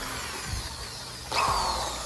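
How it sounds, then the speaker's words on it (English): A power drill bores holes to make a homemade rock sifter for an aquarium aquaponics setup, with a short, loud whine bursting in near the middle over low background rumble. "we're gonna take our drill, make our own sifter"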